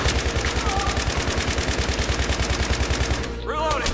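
Rapid automatic gunfire from a machine gun in a co-op video game, a steady stream of loud shots for about three seconds that then stops, followed by brief whooshing game sounds.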